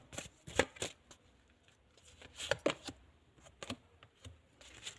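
Playing cards for a card reading are shuffled close up in a few quick riffling bursts, separated by short quiet gaps, with no talking.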